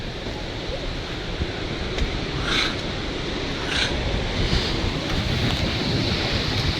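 At Thoseghar waterfall in Maharashtra, rushing water makes a continuous broadband roar throughout. Wind buffets the microphone, and faint voice-like sounds briefly rise above the noise.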